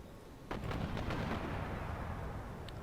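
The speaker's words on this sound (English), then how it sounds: "Oh, they got mortars." Mortar fire in the strategy game Empire: Total War, a series of heavy booming blasts starting after a brief lull and rolling on continuously, with thunderous low rumble and layered distant explosions.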